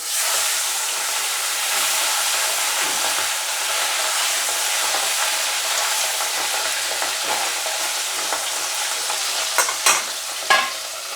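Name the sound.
fish frying in oil in a pan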